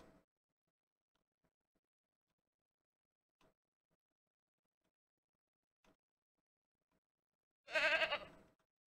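One loud goat bleat near the end of a Ranch Simulator video game scene, following several seconds of near silence broken only by a few faint clicks.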